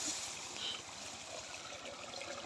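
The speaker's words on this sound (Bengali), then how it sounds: "এটা দিয়ে কিভাবে পানি যাচ্ছে।" Water trickles and dribbles down rat holes in a rice paddy field, a faint, continuous close-up gurgle with no voices.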